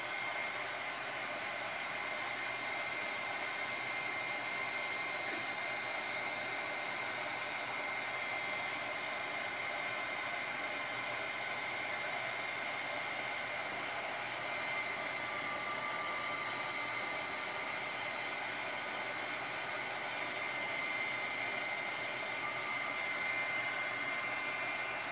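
A heat tool for embossing blows steadily over a rubber-stamped card, a continuous fan-driven whoosh and hum at an even level throughout.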